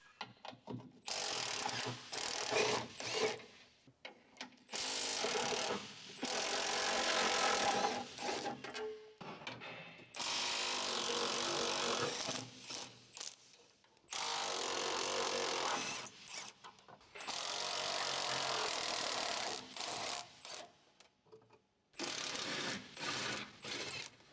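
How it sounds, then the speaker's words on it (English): Electric impact wrench with an 18mm deep socket on an extension bar, removing fuel tank mounting bolts on a 2011-2018 Jeep Wrangler JK; several loud, buzzing mechanical bursts of a few seconds each, separated by short pauses. "Using the 18mm deep socket with the extension bar and electric impact wrench, remove the fuel tank mounting bolts one by one."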